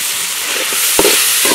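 Grated coconut sautés in a pan with a loud, steady sizzle, broken by a few brief stirring scrapes and clinks, close by and with no talking.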